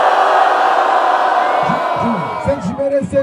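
A live crowd at a Brazilian freestyle rap battle, the Batalha do Coliseu in São Paulo, roars and cheers for an MC. The noise is loud and sustained, and an MC's shouting voice rises over it near the end.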